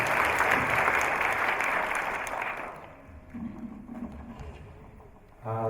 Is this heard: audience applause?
yes